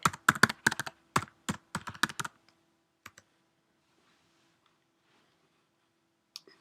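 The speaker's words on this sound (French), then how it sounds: "Donc dans la ligne de commande sur Mac, je tape Grasshopper." Typing a command on a Mac computer keyboard: a quick, close burst of crisp keystroke clicks for about two seconds, then a few isolated taps amid quiet.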